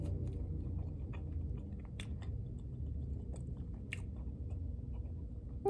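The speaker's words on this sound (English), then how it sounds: "let me try a fry." Someone chews seasoned french fries close up, with faint, soft crunches and a few sharper bites over a low background hum.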